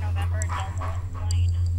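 A police K9 dog barks in short, sharp yips and barks, close and loud, under a shouting voice, with a steady low hum beneath.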